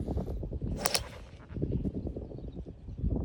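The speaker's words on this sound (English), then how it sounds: "So this was my tee shot." A golf tee shot on the 318-yard par-4 17th hole at Rodeo Dunes in Colorado: a single crisp crack of club on ball against steady outdoor wind noise.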